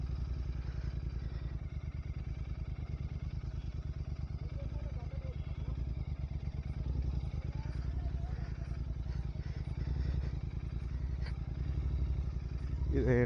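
Motorcycles ride along a rough off-road path on an early morning ride, engines chugging steadily and close for the whole stretch, with clattering and scraping from the uneven ground.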